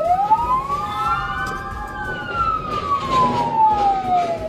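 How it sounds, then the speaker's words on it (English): A police car siren wails in a slow rising and falling sweep, loud and close over road noise and a running engine during a pursuit. "Go ahead and reactivate your lights and sirens there,"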